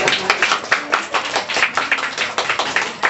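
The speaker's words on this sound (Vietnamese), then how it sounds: "bạn Huỳnh Minh Tú, một tràng pháo tay dành tặng cho bạn." Audience applause for a singing contestant at a Vietnamese talent audition, a steady patter of many hands clapping at moderate loudness throughout, with no voices.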